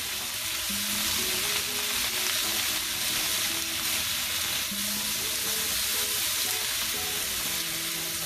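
Shrimp and bok choy sizzle hard in a very hot pan, a loud continuous frying hiss with faint stirring scrapes and clinks throughout, and no speech.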